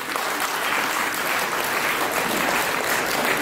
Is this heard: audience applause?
yes